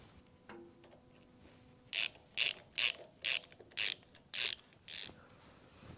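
A ratchet wrench loosening the clamp on the lower radiator hose of a Farmall Super C tractor, seven evenly spaced short metallic clicking bursts heard close and alone against a quiet background.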